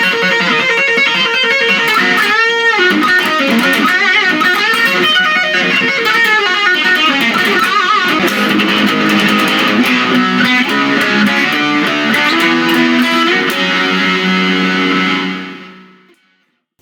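Electric guitar played through a Boss Katana Mini practice amp on the brown channel at full gain: heavily distorted, saturated chords and riffs with bends, played continuously and loud before fading out at the end.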